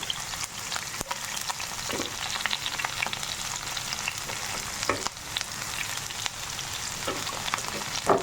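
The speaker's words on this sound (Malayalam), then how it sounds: "നമ്മുടെ എണ്ണ ഇവിടെ ചൂടായിട്ടുണ്ട് അതിലേക്ക് അരിഞ്ഞു വെച്ചിരിക്കുന്ന സവാള വേപ്പില ഇഞ്ചി എല്ലാം കൂടി നമുക്ക് ഇട്ട് കൊടുക്കാം" Sliced onion, curry leaves and ginger sizzle steadily in hot oil, a dense close crackle with occasional stirring knocks throughout.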